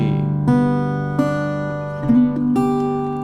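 Acoustic guitar in open G tuning strums ringing open chords, a few strikes spaced out with long sustained tones fading between them, close and clear.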